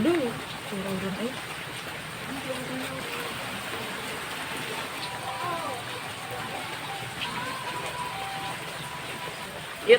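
Rain falls steadily outside a home kitchen, a faint even hiss running throughout, with distant birdsong and voices now and then beneath it.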